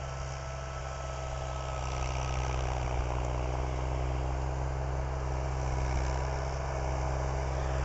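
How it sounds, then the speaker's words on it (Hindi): A Mahindra 275 DI tractor pulling a 6-foot rotavator runs steadily in low third gear, with a deep, throbbing diesel drone and faint rattling vibration, close by and unbroken throughout. "कितनी स्पीड से चला ट्रैक्टर, लो के तीसरे गियर में भी"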